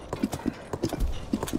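A horse's hooves pound in rapid, rhythmic galloping clip-clops in the video game Legend of Zelda: Tears of the Kingdom, close and fairly loud, with no talk over them.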